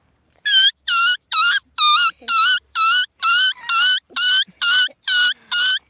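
A boy imitates a puppy's whimper: about a dozen short, high, wavering whines in a steady run, close and loud, with brief gaps between.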